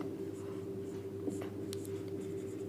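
A pen or marker scratches out a math solution during a probability lesson, making faint short strokes over a steady background hum, with no talking.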